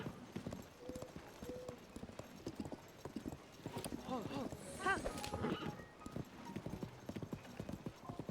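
Horse hooves clip-clop in quick, uneven bursts as a horse is ridden in Tears of the Kingdom, with a brief whinny midway, all under ongoing conversation between players.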